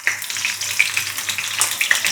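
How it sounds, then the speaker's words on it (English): Aubergine slices sizzle and crackle steadily in hot oil for aubergine parmigiana, a bright continuous hiss with small pops, close and fairly loud. "look at that sizzle. Just listen to that."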